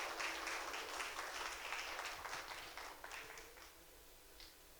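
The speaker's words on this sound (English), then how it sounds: "Please, a round of applause" A round of applause from guests at a 60th birthday party, full and even at first with a dense patter of many hands, easing slightly in strength toward the end.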